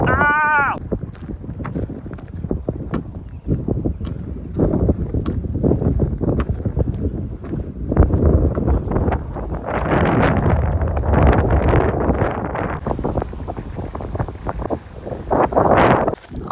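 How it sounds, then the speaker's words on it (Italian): Strong gusts buffet the microphone beside a lake, rumbling and roaring in uneven surges, with a person speaking in between the blasts. "vedo che la gente sfrutta bene il vento che mi sta massacrando"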